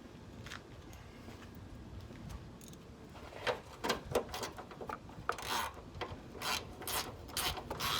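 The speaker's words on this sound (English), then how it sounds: "Let's grab our ratchet." A ratchet wrench clicks and whirs during a radiator swap on a 2003 Nissan Sentra, soft rubbing at first, then quick bursts of ratcheting, close and moderately quiet with no talk.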